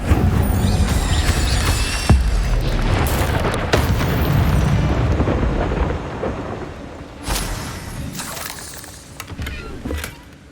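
An Incendio fire spell cast in Hogwarts Legacy on PS5 bursts out as loud, booming blasts with rumbling fiery roars, several heavy hits spread across the stretch, close and dominant, with no talking.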